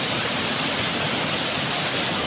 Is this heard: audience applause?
no